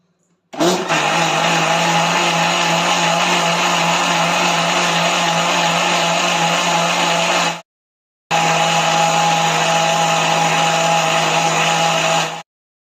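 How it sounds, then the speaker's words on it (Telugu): Loud whirring mixer grinder blending cream with added water into butter for cow ghee, running steadily for about seven seconds, pausing a moment, then spinning again for four more. "వాటర్ వేసుకొని మళ్ళీ ఆడించుకుందాం."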